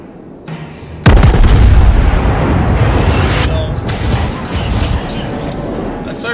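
Naval gunfire in the World of Warships game, a Fuso battleship under fire: one sudden loud boom opens a long rumbling blast that trails off, followed by fainter secondary thuds.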